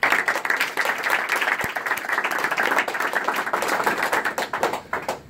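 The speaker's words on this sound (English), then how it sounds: "So please, round of applause for the panel." Audience applause for a panel at a VR/AR industry chapter event: a room full of people clapping steadily and densely for several seconds, close and even, without speech.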